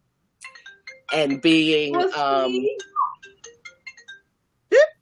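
A mobile phone ringtone goes off during a talk at a conference session, heard as short tonal chimes and a rising tone between and after a speaker's words.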